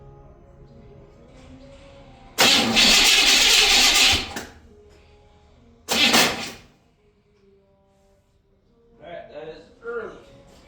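Buick 455 V8 cranking and trying to catch, with loud bursts of starter and engine noise separated by quieter pauses, then a few softer sputters near the end.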